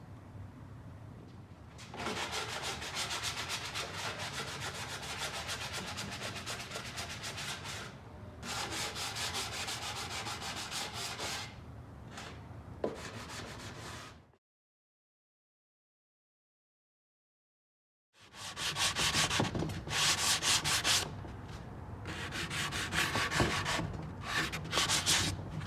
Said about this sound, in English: Now it's time to give it a sanding and see how it turns out.